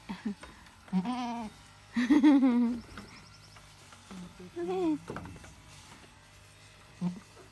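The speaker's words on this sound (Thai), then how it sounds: "วันนี้พามาดูแพะ" Goats on a farm bleating in several separate calls, short wavering cries spaced across the clip, close by, with someone speaking briefly between them.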